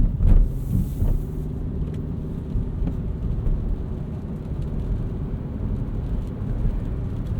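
A 2020 Hyundai Venue SEL with a CVT being driven normally, giving a steady low road rumble and drone from inside the cabin, continuous and even throughout with no talking.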